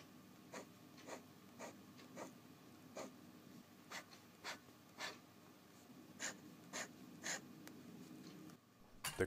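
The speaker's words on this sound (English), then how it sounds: "listen to the difference between the two nibs" Pilot Justus 95 and Pilot Falcon extra fine fountain pen nibs writing on paper, a quiet series of regular scratchy strokes, about a dozen short rasps spaced evenly and close up, with no talking.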